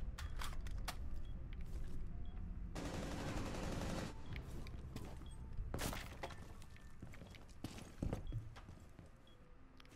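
Gunfire in Rainbow Six Siege, with scattered sharp shots and a dense rattling burst of automatic fire, faint against a quiet background.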